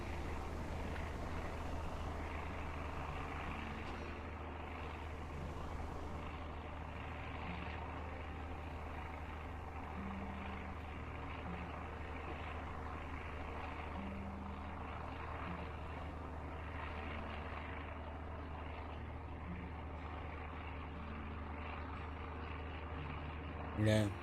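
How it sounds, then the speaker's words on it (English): Airplane droning overhead during a stormy night in the zombie survival game Surroundead, a steady low hum and rumble holding for the whole stretch and ending with a brief louder thump. "I don't think those were dropped by this plane that we're hearing"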